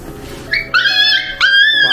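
An abandoned puppy whimpering in a small cage, a few close high-pitched whines and yips in quick succession, loud and alone.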